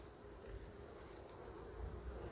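A honey bee colony hums with a low, steady, faint drone, a soft continuous buzz of many bees with gentle wind noise around it.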